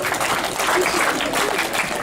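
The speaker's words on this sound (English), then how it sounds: "Clap for them." Schoolchildren applauding together at a primary school gathering, a steady dense wash of clapping that holds evenly through the whole stretch, with a few voices mixed in beneath it.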